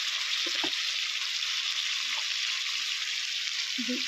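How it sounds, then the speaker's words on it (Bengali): Taro leaves (kochu saak) go into hot oil in a Bengali kitchen, raising a steady, loud sizzle with a couple of utensil clinks, no speech. "তেলটার মধ্যে কচুর শাকটা দিয়ে দেবো"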